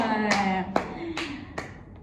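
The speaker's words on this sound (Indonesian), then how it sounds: "Oke, beri tepuk tangan untuk kita semua." A classroom of children claps hands in a slow rhythm of four distinct, well-spaced claps under a sustained voice, fairly close and moderate in loudness.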